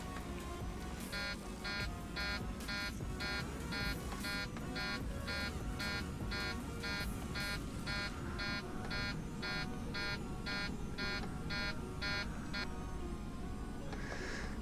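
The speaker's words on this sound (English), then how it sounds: "That's the flap warning" A Boeing 737 flap warning buzzer sounds in the cockpit as a steady run of evenly spaced, loud pulsed beeps lasting about eleven seconds over constant engine and cabin rumble, with no talk.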